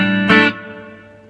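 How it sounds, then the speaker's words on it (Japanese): Electric guitar played through a T-Rex reverb effect pedal: a single strummed chord rings out, then fades away over about a second in a smooth, lingering reverb tail. "紹介しますのはこちらは、まあ、リバーブでございます"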